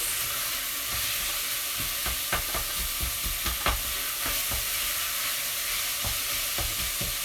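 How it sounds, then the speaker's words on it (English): Onions frying in a pan for Indian dahl, a steady sizzle with a few scattered scraping clicks from stirring, close and continuous with no talking. "Okay, so just stir those onions."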